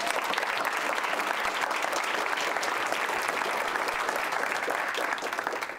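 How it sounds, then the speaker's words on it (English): An audience at a Sarasota County Schools board meeting gives a big, steady round of applause for talented students, dense clapping filling the room at an even level before tapering off at the end. "please give them a big round of applause"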